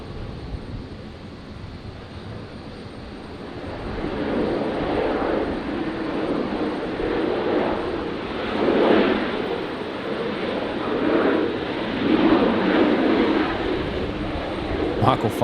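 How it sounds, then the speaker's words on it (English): Qantas 753, a Boeing 737 arriving from Townsville, touches down at Brisbane International Airport. A sustained engine roar swells and recedes at a distance, while a voice talks over it. "on screen now, we've got Qantas 753 just touching down"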